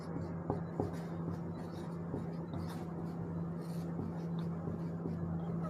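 Chalk or marker writing on a classroom board during a geography lesson, giving a continuous faint scratching with a few taps under a steady background hum.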